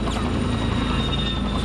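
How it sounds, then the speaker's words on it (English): Helicopters pass overhead with a loud, continuous rotor thump and engine drone, steady and close throughout the short stretch. "helicopters flying overhead."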